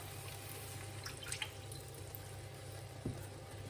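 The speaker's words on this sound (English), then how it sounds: "Let's go in with our water now." Water being poured into a pan of bacon and mushroom risotto, a steady, fairly faint splashing trickle with a few small drips and sputters and no talking.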